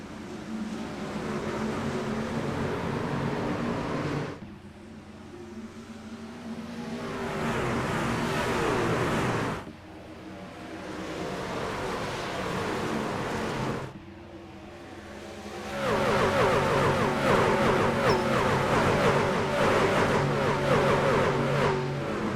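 Race trucks on the Kentucky oval in the iRacing sim roar together at the start, a loud continuous engine drone that swells and dips as the field passes, then surges louder near the end.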